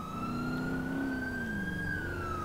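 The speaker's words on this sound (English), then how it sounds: "I cannot do my intro with your siren blaring." A loud police siren in GTA IV wails continuously, its pitch rising slowly and then dipping, over a low engine rumble.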